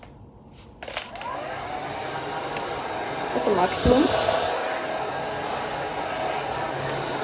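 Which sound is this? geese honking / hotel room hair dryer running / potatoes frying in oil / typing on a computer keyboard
hotel room hair dryer running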